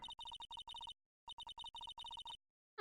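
Telephone redial tones from the Phoenix Wright: Ace Attorney video game, a rapid series of short electronic beeps in two bursts with a pause between, clean and alone.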